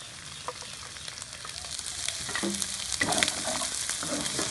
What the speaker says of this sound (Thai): เราก็จะลงกระเทียมเลยนะครับผม ผัดให้หอมครับ